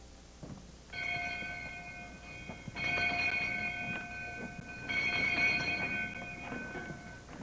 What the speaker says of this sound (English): Who rang that bell?